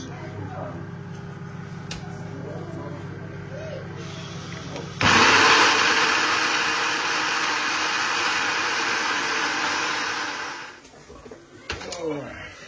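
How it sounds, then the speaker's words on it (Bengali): A kitchen blender grinds dried fish (shutki) with onion, garlic and chili, starting abruptly into a loud whirring roar that holds steady for several seconds before winding down and stopping. "এখন হয়ে ব্লেন্ডার করলাই শুটকি"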